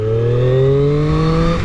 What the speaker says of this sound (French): Écoutez-moi ça, cette sonorité,